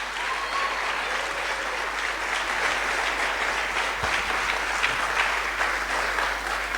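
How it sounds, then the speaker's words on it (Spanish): Church congregation applauding during a worship service, a steady, dense roar of clapping lasting nearly seven seconds at even volume, with scattered sharper claps and a low hum underneath. "Dale un aplauso a tu Rey,"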